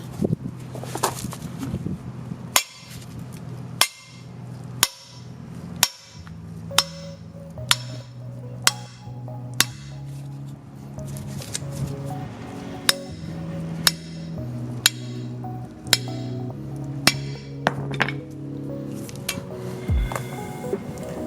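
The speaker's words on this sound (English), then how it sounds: "Now all I'm gonna do next is just get a hammer." Repeated sharp metallic hammer strikes on front suspension parts of a 1991 Honda Civic ring out at an uneven pace, each blow followed by a brief clanging resonance.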